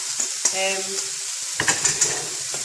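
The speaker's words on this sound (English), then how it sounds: "what I'm going to do, I'm just going to add the beans to that" Already-cooked beans sizzle in a hot frying pan for Mexican-style spiced beans, with a few stirring scrapes and clinks near the end.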